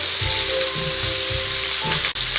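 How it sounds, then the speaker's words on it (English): Onions sizzle loudly and close in a hot pan while cooking, a continuous crackling hiss with a few soft clatters of stirring. "Ooh, got that nice sizzle going."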